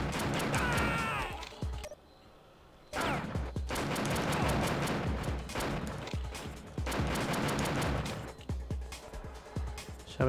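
Rapid gunfire and clattering impacts from the video game Die Hard Trilogy 2: Viva Las Vegas, dense repeated shots in bursts with a brief lull, mixed with game effects and music-like tones, loud and continuous.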